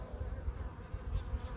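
Swarm of bees held in a flimsy mesh laundry basket, giving off a steady, dense, low droning buzz, close and continuous for a brief moment with no voices.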